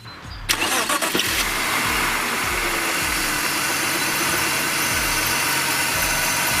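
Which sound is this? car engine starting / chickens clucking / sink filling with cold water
car engine starting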